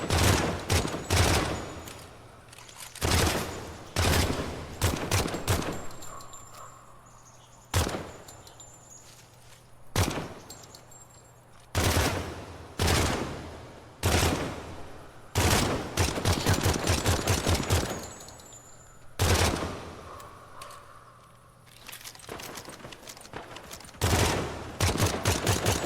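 Gunfire in the video game Project Silverfish: repeated loud bursts of automatic fire and single sharp shots, close and punchy, separated by quieter gaps with faint movement and ambience.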